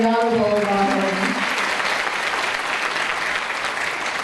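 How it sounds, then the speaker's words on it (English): Conference audience at a women's business conference applauding steadily and loudly, a dense wash of many hands, with a voice heard briefly at the start. "Let's give another round of applause to the Honorable Jerome Horton and the Honorable Horton."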